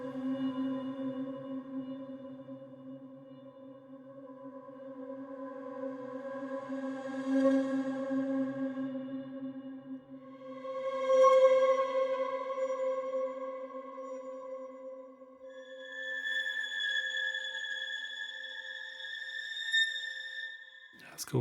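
Spooky, atonal synth pad from Heavyocity Mosaic Pads sustains a low drone, and layered tones swell in and fade over about twenty seconds, ending in a brief downward glitch.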